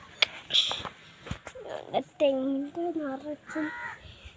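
Crows caw near a house among coconut trees, several harsh calls scattered among overlapping speech, including a voice, in an outdoor domestic setting.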